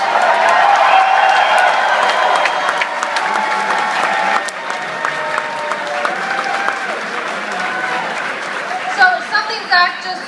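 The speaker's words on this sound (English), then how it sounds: "If you could give her a big round of applause." Crowd applause and cheering fill an election night party for marriage equality in Washington, a dense steady wash of clapping with whoops rising near the end.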